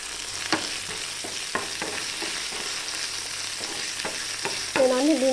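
Tomatoes and green chillies frying and being stirred in a pan for chutney, a constant sizzle punctuated by rhythmic spoon scrapes and taps, with a brief voice near the end.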